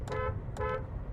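Two short honks from the horn of a 2021 Kia Sonet GTX+ diesel automatic, pressed from inside the cabin, each a brief clear tone separated by about half a second.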